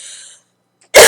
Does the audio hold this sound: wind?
no